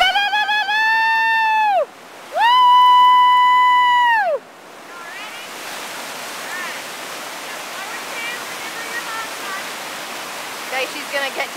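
A whitewater rapid on the Pigeon River rushes with broad, steady roaring water. Two long, high whistle-like tones sound first, then the rapid carries on alone at moderate loudness.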